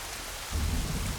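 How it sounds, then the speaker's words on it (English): Steady outdoor rain and wind, a broad hiss that swells into a heavier low rumbling gust halfway through, at a roundnet (Spikeball) tournament in London. "Everyone is pretty much a little bit stop-start with the rain and the wind."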